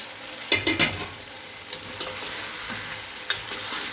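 A spoon stirs chicken korma in a pot, giving a few scraping clanks against the metal over a soft, steady background of simmering.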